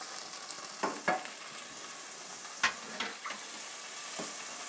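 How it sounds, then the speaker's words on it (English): Roasted red pepper hits a hot pan for pasta with a few sharp sizzle bursts over a steady low hiss, fairly quiet and close, with no talking. "There's that nice sizzle that you like to hear."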